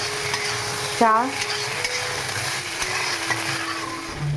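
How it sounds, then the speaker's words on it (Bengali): Chickpeas and potatoes fry in a pan while being stirred, a soft sizzle beneath scraping spoon strokes, close up, with a brief spoken word partway through. "এখানে ইফতারের জন্য আমি ছোলা আলু ভাজা করছি।"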